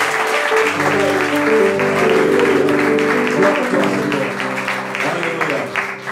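A church congregation applauds steadily during a French-language worship service, a sustained wash of clapping under loud music and voices.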